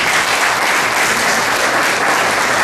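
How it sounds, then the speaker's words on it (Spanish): Dense, steady applause from a conference audience greeting invited guests, loud and continuous throughout without any speech over it. "vamos a darle un aplauso a los invitados"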